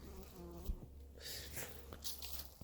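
Honey bees buzz around a beekeeper at the hives, a steady insect drone that runs through the whole short stretch, fairly close and moderately loud, with faint handling noise and a brief bump.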